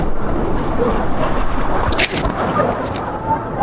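Waves washing in at Cox's Bazar sea beach, a steady, loud broadband roar of surf and wind with no break, mixed with faint background sounds.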